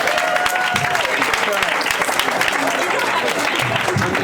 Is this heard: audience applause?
yes